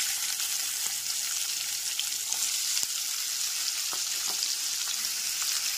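Sliced onions sizzle in hot oil in a pan over a medium flame, a steady bright hiss broken by small crackles and pops, close up and continuous with no talking.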